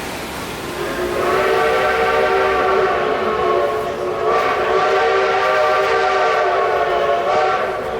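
A loud train whistle at Silver Dollar City blows in long sustained blasts, a chord-like tone swelling and holding for several seconds with a brief break midway.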